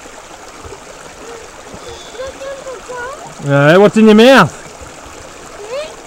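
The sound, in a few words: river water flowing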